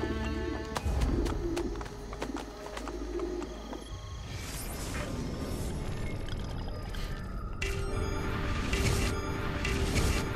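Pigeons coo at a dovecote in the video game Assassin's Creed Brotherhood, their soft, repeated low calls mixed into a busy, continuous game soundscape with no talking.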